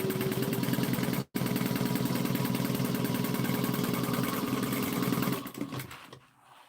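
A sewing machine stitches a 3/8-inch seam on an Erica bowler with a few back stitches, running as a steady, close mechanical whir for about five seconds with one brief pause before it slows and stops.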